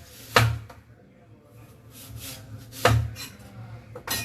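A knife chopping banana stem into small bits on a board: two distinct, crisp cutting thunks a few seconds apart, with soft rubbing and handling sounds between them.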